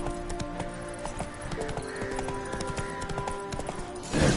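Hoofbeats of the horse Roach in The Witcher 3 on PS5, a steady clip-clop rhythm with a brief whinny-like burst near the end, heard over layered game music and ambience.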